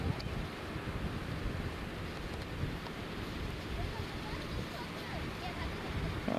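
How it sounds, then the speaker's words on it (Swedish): Sea wind blowing steadily across a long beach at Cox's Bazar, Bangladesh, a continuous broad rush with microphone buffeting and distant surf underneath, no speech. "Känns det blåser så skönt ifrån havet."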